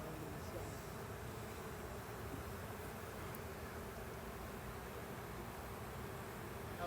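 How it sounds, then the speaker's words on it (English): Honey bees hum steadily around an open hive outdoors on a warm day, a faint continuous buzzing drone that stays even throughout with no distinct pauses. "right now the bees are staying more into the center, which they often do"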